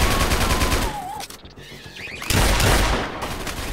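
Gunfire in a Roblox game: rapid, loud automatic bursts crackle close up, briefly drop away, then resume in a dense rattling volley.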